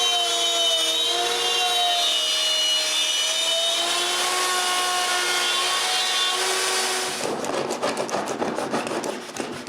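A router plane cuts along grooves in solid pine, a steady close rasping scrape with a whistling tone that runs for several seconds, then breaks into shorter scratchy strokes near the end.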